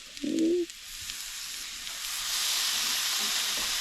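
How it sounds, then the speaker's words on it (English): Moose meat marinated in soy sauce, Worcestershire sauce and garlic hits a hot pan at a winter campsite, giving a steady broad sizzle that builds and holds close by after a short low tone at the start. "I think it's time to add our moose meat."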